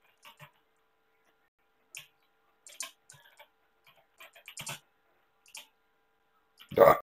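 Sparse keyboard key taps as a Run command is entered on a Windows 11 computer, light clicks in small clusters separated by silence, ending with a louder thump.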